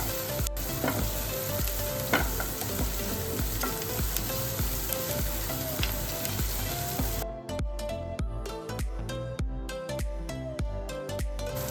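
Finely chopped onion sautés in a pan with a loud, continuous close sizzle and crackle, then lighter, sparser popping after the sound settles.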